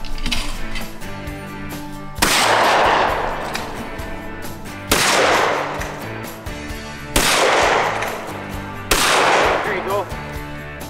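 A shotgun fires at clay targets on a sporting clays course outdoors, four loud sharp blasts spaced a few seconds apart, each followed by a decaying echo over quieter background sound.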